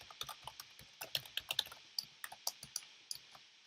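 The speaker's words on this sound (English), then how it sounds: "it's hard to type so fast" Fast typing on a computer keyboard, a quick run of light, uneven key clicks heard up close with no talking.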